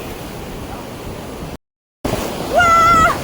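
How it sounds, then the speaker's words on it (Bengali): Ocean surf rolls in at Digha beach with a steady, loud broadband wash, broken by a short gap, then returns stronger as a high whistling voice rises over it. "দাঁড়া দাঁড়া, সমুদ্রটা আসছে, আবার আসছে।"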